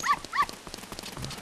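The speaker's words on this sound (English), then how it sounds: "Who you barking at, buddy?" A dog barks twice in Zelda Ocarina of Time, two short sharp yips close together at the start, followed by faint background game sounds.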